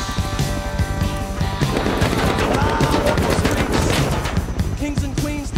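Rapid automatic gunfire from the survival video game Rust, with dense overlapping bursts running continuously at high volume and a music track playing underneath.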